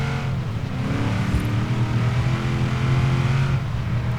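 A Ford Mustang engine in Forza Horizon 3 holds a steady, loud, throaty drone with a low rumble, close and continuous, with no voices over it.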